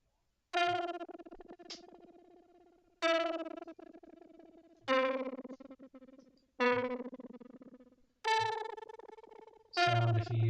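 An Arturia MicroFreak synthesizer plays six distorted, wobbly notes, each played with more pressure on the keys and decaying with an unsteady, warbling tail, spaced about every two seconds, loud and close with no talking.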